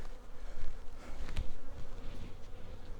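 Honeybees at an open beehive during an inspection, a dense, steady buzzing swarm close by, with no voices.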